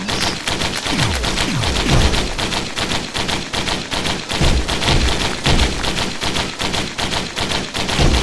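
Machine gun fire in the video game Risk of Rain: dense, rapid bursts of gunshots repeating steadily, loud and close, with no talk over them.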